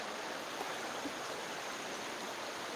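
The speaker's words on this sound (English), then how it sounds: "I'm hearing some water here." A stream's water runs steadily, a continuous broadband rush filling the scene at moderate level, with no voices or other distinct sounds over it.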